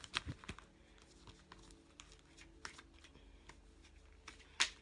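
Tarot cards are shuffled for a reading, producing faint, irregular soft riffles and taps up close in a quiet room, with a sharper crisp snap near the end.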